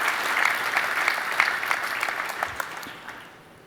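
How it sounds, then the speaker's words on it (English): An audience at the DockerCon 15 day-two keynote claps for the event's partners, producing dense, loud applause that holds for a few seconds and then gradually thins and fades. "So you could have a round of applause for these partners"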